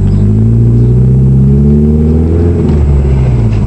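A 1996 Chevrolet Cavalier LS with the 2.4 twin cam engine and automatic transmission drives along, its engine droning loudly and steadily with a slowly rising pitch as it pulls away, with no one talking.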